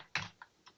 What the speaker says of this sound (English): I started at the home directory by typing CD